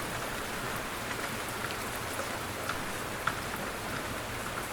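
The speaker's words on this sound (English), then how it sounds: "The rain is starting." Gentle steady rain falling, a soft even patter with occasional louder drops striking a surface, continuous and moderately quiet with no voices.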